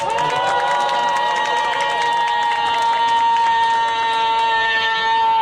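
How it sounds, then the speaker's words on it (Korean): Crowd at an outdoor prayer rally cheering and applauding in honour of a union branch chief, a dense continuous roar of clapping and shouting voices, loud and sustained throughout. "환호성과 박수를 보내주시기 바랍니다"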